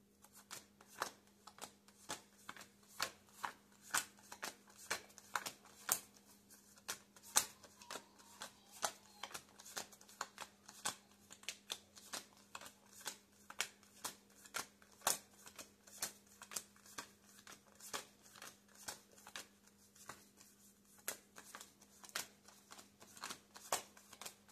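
A deck of cards is shuffled and handled again and again, giving sharp, close riffles and slaps in a fairly regular rhythm over a steady low hum, with no talking.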